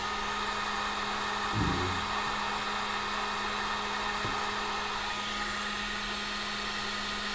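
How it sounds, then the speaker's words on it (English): Heat gun blowing on solder during wiring work on a Kawasaki Z900RS motorcycle, a steady close whooshing hum with a constant tone throughout, and a couple of brief knocks early on. "So the heat gun's heating up that solder, hopefully."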